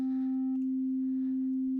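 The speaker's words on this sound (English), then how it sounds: "send a sine wave to our spectral analyzer." A steady synthesizer oscillator sine wave holds one pure, unwavering pitch for the whole stretch, fairly quiet and alone, with a faint higher tone dropping out partway through.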